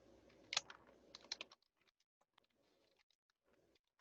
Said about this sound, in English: Sorry, I'm typing notes.